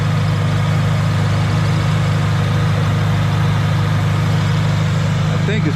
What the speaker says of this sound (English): the car seems to be running great